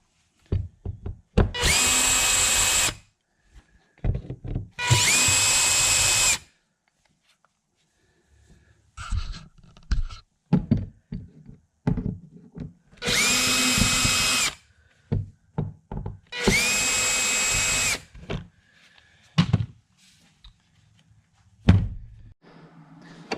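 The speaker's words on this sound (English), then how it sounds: "I'm just going to go ahead and drill those out quick" A power drill bores out the two rivets holding an old rod locker latch on a Bass Tracker boat, with four loud whirring bursts of a few seconds each, separated by clunks and handling noises nearby.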